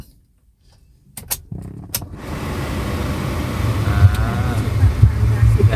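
A 2012 Toyota Vios 1.5E cranks and starts after the key goes in: a few sharp clicks, then the engine catches and settles into a steady, growing idle rumble close by, with someone talking over it.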